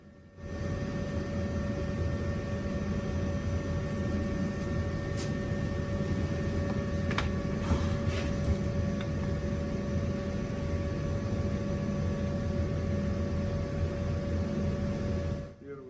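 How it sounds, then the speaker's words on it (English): Smoke exhauster fan running on a plastic pyrolysis installation, a steady close whirring drone with a constant tonal whine that switches on at the start and holds evenly, with faint clicks over it. "We have turned on the smoke exhauster."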